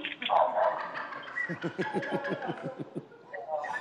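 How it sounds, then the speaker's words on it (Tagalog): A dog barks in a rapid run of about ten sharp yaps, close by, with a short vocal sound just before. "Ang ingay ng aso"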